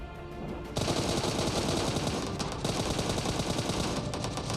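Rapid automatic gunfire from a shooter video game rattles loudly in a dense, continuous burst after a brief quieter lead-in, with no voices over it.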